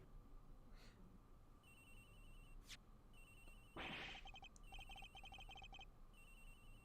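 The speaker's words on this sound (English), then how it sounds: "It's ringing from somewhere, sir." A telephone rings in a video game with repeated electronic trill bursts, steady and moderately loud over a dense, noisy game background.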